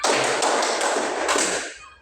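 A class of students claps in a rhythmic counted pattern, with several distinct group accents running through a continuous loud patter of hands before it fades out, no talking.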